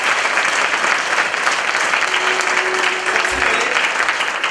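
A crowd at a motivational talk applauds loudly and continuously, a dense clapping roar filling the whole stretch with a brief low thump near the end.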